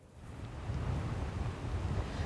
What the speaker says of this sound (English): the wind is still gusting and the rain just starting to pick up. The beaches here are eerily quiet as the waves crash onto the shore.